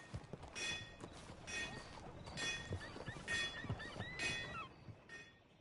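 Horse in the Red Dead Redemption 2 video game walking with soft hoof clip-clops, overlaid by several faint bright tonal bursts at regular intervals, quiet and even throughout.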